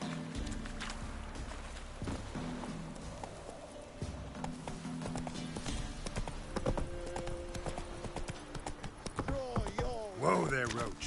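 Roach, the horse from the Witcher video game, trots with steady hoof clip-clops that grow denser and louder toward the end, layered under background game chatter and music.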